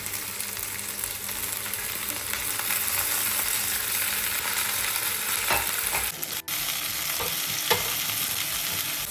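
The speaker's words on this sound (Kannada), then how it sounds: "ಎಣ್ಣೆ ಕಾದಿದೆ ಇದಕ್ಕೆ ನಾನು ಈರುಳ್ಳಿ ಹಾಕೋತಾ ಇದ್ದೀನಿ ಈರುಳ್ಳಿ ಕರಿಬೇವು ಹಾಗೆ ಬೆಳ್ಳುಳ್ಳಿನ ಒಟ್ಟಿಗೆ ಸೇರಿಸ್ಕೊತಾ ಇದ್ದೀನಿ" Onion, curry leaves and garlic frying in hot oil, a steady close sizzle with light stirring scrapes and a couple of sharper taps of a spoon on the pan; no speech.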